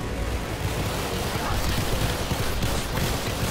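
Massed gunfire from huge armies in Ultimate Epic Battle Simulator, a dense, steady roar of countless overlapping shots blending into a continuous rumbling wash.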